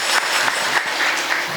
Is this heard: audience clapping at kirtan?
yes